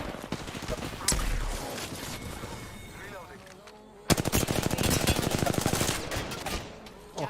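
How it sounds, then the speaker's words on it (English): Video game gunfire crackles through a firefight, with scattered shots and background noise giving way to a loud, sustained burst of rapid automatic fire after a short pause. A voice talks briefly in places. "Shots fired at me."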